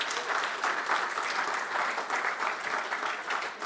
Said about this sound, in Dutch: Even een kort applaus trouwens.